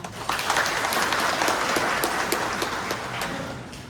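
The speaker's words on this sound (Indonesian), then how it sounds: "Boleh kita beri tepuk tangan?" A church congregation applauds together after a Mother's Day song, steady dense clapping filling the room at moderate volume with no talk over it.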